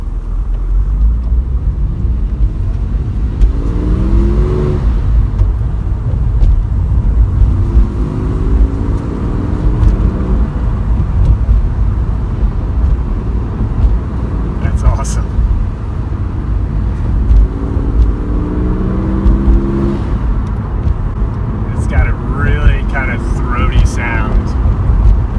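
A Porsche 911 fitted with a Fister D aftermarket exhaust drives at low RPM while the engine is still cold, giving a deep continuous rumbling drone with slow tonal swells that rise and fall, heard from inside the car.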